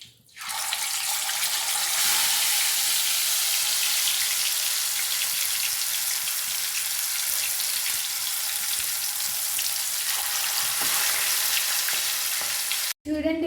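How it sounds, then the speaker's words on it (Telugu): Green masala chicken leg pieces fry in hot oil with a loud, steady broadband sizzle that holds constant for nearly the whole stretch, starting abruptly and cutting off right at the end, with no talking. "నూనెలో వేపాలి."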